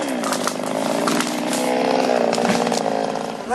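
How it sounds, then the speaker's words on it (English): A forester's chainsaw cuts native Japanese cypress (hinoki) during selective harvesting, a close, steady buzzing whine held at high revs for several seconds with a slight rise in pitch near the end. "This is a forester who's selectively marking and harvesting some native Japanese cypress or hinoki trees."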